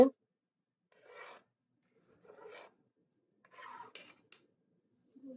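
Thick jaggery being stirred in a cooking pot for payesh, heard as three separate scraping, rasping strokes spaced a second or so apart, close by and moderately quiet, with near silence between them.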